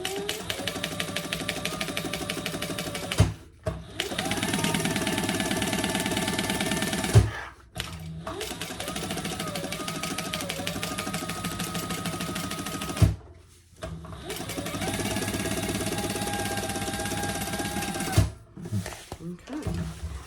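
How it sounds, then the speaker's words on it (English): A sewing machine stitches in the ditch along the seam where two fabrics meet on a jumbo beach tote bag, running in long steady bursts of rapid mechanical whirring with three brief pauses between runs. "So we're just gonna stitch kind of in the ditch."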